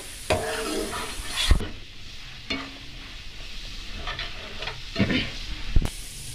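Masala with cumin and coriander powder sautéing in a pan for a cabbage malai curry, a loud sizzling hiss broken by several sharp spoon scrapes and knocks.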